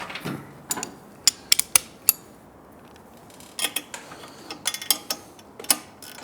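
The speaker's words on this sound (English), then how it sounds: "now I just want to tighten this back one by hand so I know how tight it is" A ratchet tool clicks as a bolt is tightened by hand on the exhaust of a Triumph Speed Twin 1200 motorcycle, bursts of quick close metallic clicks separated by short pauses.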